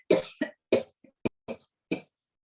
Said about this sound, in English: And you cough.